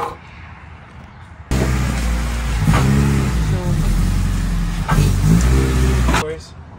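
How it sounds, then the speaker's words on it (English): A vehicle towing a trailer pulls away and cruises on the road, its engine and road noise swelling suddenly and holding steady with a couple of surges, then cutting off. "officially back on the road, moving, wheels turning"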